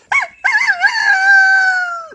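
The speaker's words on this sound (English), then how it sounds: "the rooster crowed" A rooster crows loudly and close by, a short opening note followed by a long, drawn-out call that trails off.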